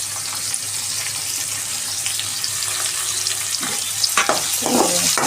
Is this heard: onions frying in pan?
yes